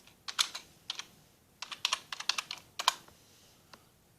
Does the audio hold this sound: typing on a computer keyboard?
yes